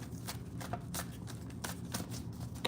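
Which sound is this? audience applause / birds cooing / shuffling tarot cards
shuffling tarot cards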